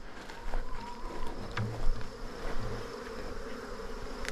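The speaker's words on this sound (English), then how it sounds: "Take a closer look at this beehive over here while we're down here." Bees swarm busily around a beehive on a small farm with a steady, close insect buzz, and single bees drone past nearby.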